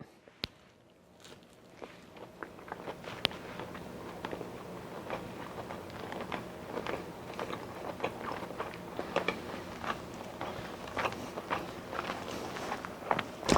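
Someone bites into and chews a sweet, large egg white protein bite, a string of soft, crumbly crunches and moist chewing sounds close to the mic at a quiet level.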